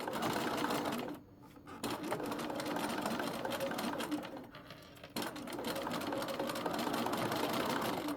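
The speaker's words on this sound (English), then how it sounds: "So first we're going to stitch in the ditch." A sewing machine stitching in the ditch of a shoulder seam during a garment alteration, running steadily and quietly with a fast mechanical whir, pausing briefly twice before starting up again.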